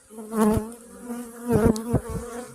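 Honeybees swarm around an open beehive, a close, loud buzzing drone with rising and falling wingbeat tones as individual bees pass near, swelling in waves over a couple of seconds.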